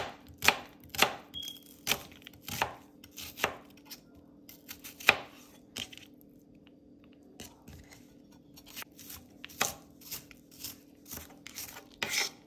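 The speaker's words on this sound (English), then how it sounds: "I'm gonna cut these as small as I can get them." A knife chops onions finely on a cutting board, giving a series of sharp, close taps in uneven quick bursts with short pauses, alone and with no talking.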